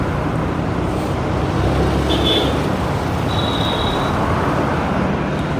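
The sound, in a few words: road traffic noise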